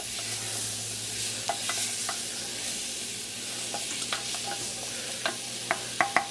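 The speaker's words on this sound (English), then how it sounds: "stir everything together" Tomato sauce in a pot just taken off the heat, stirred with a spoon that scrapes and taps the pot in a loose rhythm over a soft residual sizzle, close and alone.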